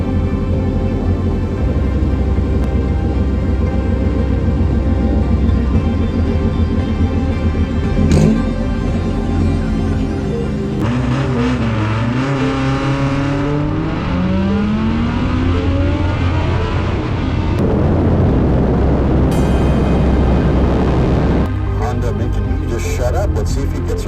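A land speed racing car, number 203, accelerates at El Mirage: a loud, sustained engine roar that climbs through several rising gear sweeps and then passes close by, while people talk over it.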